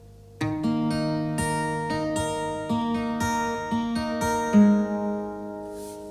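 Fast fingerpicked acoustic guitar notes ring out in a steady rolling pattern, close and clear, with no talking.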